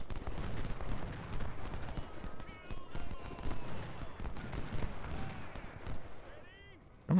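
Rapid, dense musket volley fire crackles steadily in a Ultimate General: Civil War battle, many overlapping shots forming a continuous rattling roar with someone talking over it.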